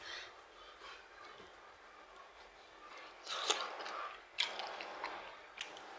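Quiet, moist chewing and squishing close up, with a few sharper crunchy bites standing out against soft background hiss.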